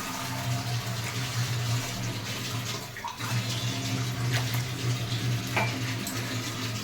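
Water poured into a home-cooked dish being mixed to a moist consistency, a steady close splashing and trickling flow that runs without a break and has no talking over it.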